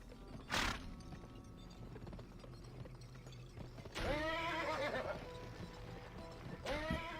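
Horse in the video game GUN whinnying twice, loud and close, over a steady rhythm of galloping hooves and faint game background sound.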